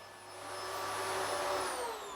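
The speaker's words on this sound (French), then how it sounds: "Yannette Mazzolini lave, repasse et passe l'aspirateur." A vacuum cleaner runs steadily with a continuous whirring drone, fairly quiet and swelling slightly in the middle, with no voices.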